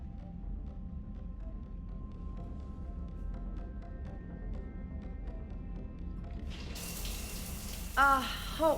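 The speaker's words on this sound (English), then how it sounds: "I figured you'd be more interested in a shower." Shower water runs steadily in a Mass Effect 3 game scene, a soft, even hiss held for several seconds beneath faint tonal music, followed by a brighter splashing surge and a couple of short clatters near the end.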